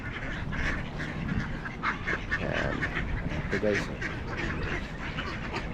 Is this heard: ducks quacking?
yes